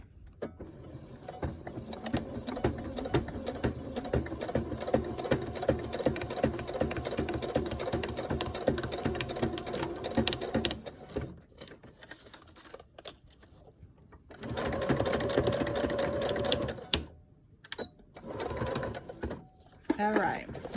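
Sewing machine top-stitching a paper playing card shaker, a fast steady needle chatter running for about ten seconds, then shorter bursts of stitching with quiet gaps, with a voice speaking at times.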